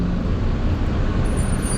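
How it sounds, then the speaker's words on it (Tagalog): Steady, rumbling road traffic in Tagaytay, with engine drone close by and continuous, plus a brief high hiss near the end. "Grabe ang traffic sa Tagaytay."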